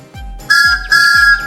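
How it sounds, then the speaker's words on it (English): Thomas the Tank Engine's steam whistle in a Roblox game sounds twice, loud and close, in two shrill sustained blasts with a low chuffing rumble beneath. "Thomas's whistle soon woke them up"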